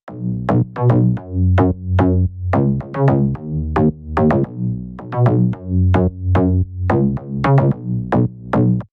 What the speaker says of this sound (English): search for a plucky mid-bass preset